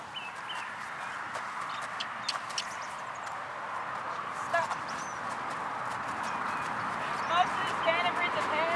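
Standardbred horse walking during a schooling session, hooves clip-clopping faintly at a distance under steady outdoor ambience, while a person talks over it.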